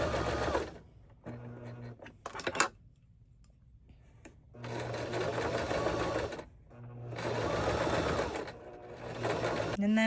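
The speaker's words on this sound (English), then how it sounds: "And I am back stitching at the beginning and the end of these, just a couple stitches, just to really secure the stitching." Sewing machine stitching and back stitching the fabric binding of a giant shapable wired bow, several short bursts of steady running separated by brief pauses and small clicks, close and clear.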